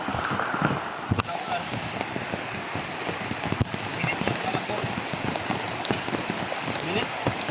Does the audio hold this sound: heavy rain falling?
yes